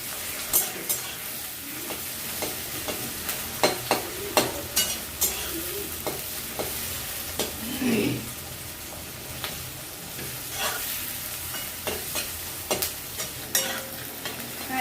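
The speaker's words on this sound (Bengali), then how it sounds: "এবার পেঁয়াজটা লাল লাল করে ভেজে নেব।" Onions frying in hot oil for biryani birista, a steady crackling sizzle with occasional scraping stirs of a spoon in the pan, close and continuous with no talk.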